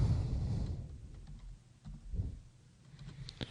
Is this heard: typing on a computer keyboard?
yes